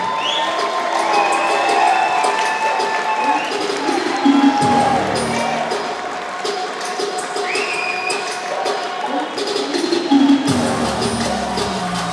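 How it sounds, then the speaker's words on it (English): Crowd at a Polaris grappling event cheering for fighter Kerry Isom, loud continuous shouting and applause with high whistles and calls, a voice talking over it. "you can hear a lot of support in the crowd"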